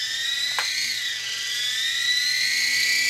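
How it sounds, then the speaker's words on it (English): A toy RC helicopter's propellers whine at close range, a high, steady motor pitch that drifts slightly in tone, with a brief click near the start. "See, you can't shoot it without the propellers going."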